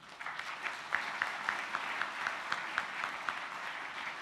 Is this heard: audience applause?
yes